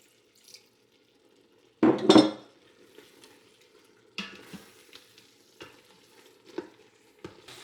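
Shrimp and broccoli sauce being stirred in an Instant Pot, a loud scraping stir followed by several scattered clinks and scrapes of a utensil against the metal pot, with a faint steady hum underneath.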